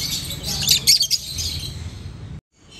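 Green Fischer's lovebirds chirp and squawk in a caged bird shop, a burst of bright, shrill calls close by that fades before a short silence at the end.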